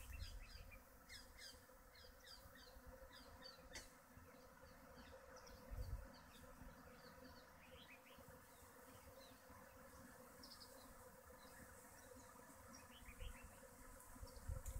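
Bees buzz around a tree on a hilltop in the early morning, a faint, continuous droning hum with individual insects passing close now and then, while birds call softly in the background.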